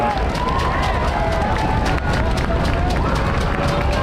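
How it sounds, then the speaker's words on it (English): A crowd at a 2024 high school homecoming football game makes a drum roll by stomping on the bleachers. The rapid rumble is loud and continuous for the whole stretch, with cheering mixed in. "Can we get a drum roll here by the crowd?"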